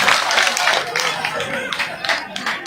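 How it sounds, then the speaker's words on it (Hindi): Clapping and applause from a crowd at an outdoor village political rally in Tharu, Gannaur, rising in bursts of claps that run steadily throughout, fairly loud and close, with some voices mixed in. "एक बार जोरदार तालियां हो जाए अंकल जी के लिए भी"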